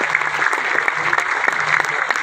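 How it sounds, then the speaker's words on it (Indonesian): An audience at a village farmers' meeting applauds Pupuk Indonesia, close, moderately loud clapping with individual claps audible in a steady patter under a low hum. "Tepuk tangan untuk pupuk Indonesia."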